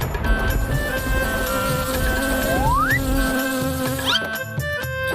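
A grasshopper's buzzing sound effect, a loud, continuous insect drone lasting several seconds, steady and close with a rising sweep near the end, alone without talk.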